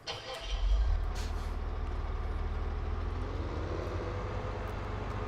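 Tractor engine pulling a trailer in Farming Simulator 17, a steady low, close drone that swells briefly at the start and then holds an even rumble with no talk.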